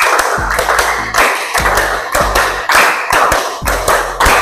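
A classroom of students claps in unison in short rhythmic bursts, several tight groups of loud, sharp claps repeated at a steady pace with brief pauses between each set.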